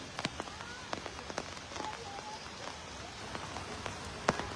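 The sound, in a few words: continuous rain during Jhelum flooding in Kashmir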